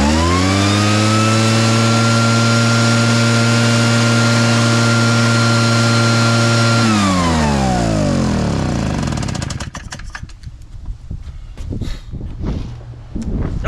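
An engine runs steady and loud at a locked, high throttle, then its pitch sags and winds down until it quits, leaving rattling and knocking noises.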